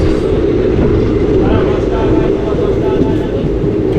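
Loud, continuous rumble and rattle of a passenger train running past a rural railway station, heard from on board, steady with no pauses.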